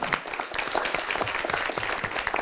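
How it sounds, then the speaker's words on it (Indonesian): Studio audience applause for Paskibra drum band students from Guna Bakti 2 Bekasi on a talk show, dense, lively clapping from many hands at fairly close range with no talk over it. "Tepuk tangan."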